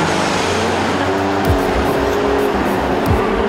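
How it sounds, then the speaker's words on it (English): Race car engines run loudly together at Pocono Raceway before the ABC Supply 500, a steady dense roar with occasional revs rising and falling. "Drivers, start your engines."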